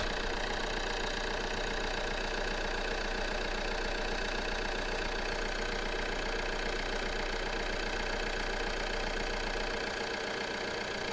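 A Vauxhall Insignia 2.0 CDTi diesel engine idles steadily during an EGR valve actuation test, a constant close mechanical drone with a faint knocking texture and a slight change in tone near the end.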